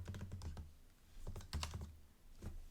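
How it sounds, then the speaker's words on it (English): Keystrokes on a computer keyboard while configuring a network setting during a CentOS 8 Linux install, coming in quick close bursts with short pauses between them, loud and near with no talking. "or you can type it out"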